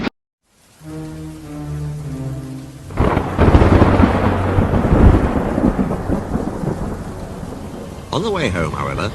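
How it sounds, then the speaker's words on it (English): A storm breaks with a heavy rumbling thunderclap, then steady loud rain and gusting wind that continue throughout, after a brief low tonal hum at the start. "On the way home, however, the weather changed. Wind and rain buffeted Edward."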